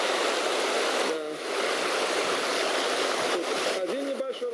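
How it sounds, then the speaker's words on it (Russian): A small waterfall and a mountain stream fed by a kariz rush steadily near a mountain village in Turkmenistan, a continuous watery hiss with faint voices briefly audible over it. "Тут один небольшой водопадик, там дальше второй. А вообще этот ручей вытекает из Кяриза."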